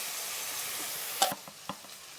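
A paste of green chilies, cumin and ginger sizzles in a pan as cabbage with fish head is cooked, giving a steady close frying hiss broken by a few sharp crackles and soft stirring clatters.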